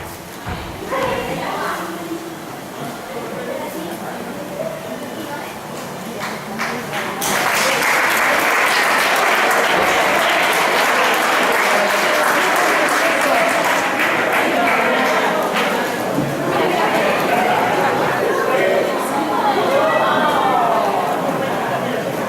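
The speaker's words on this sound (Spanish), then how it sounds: "Un aplauso, un aplauso." Audience at an end-of-year school gala festival in Puerto de Sagunto bursts into loud, sustained applause with cheering, rising sharply after a quieter stretch of crowd murmur and voices at the start.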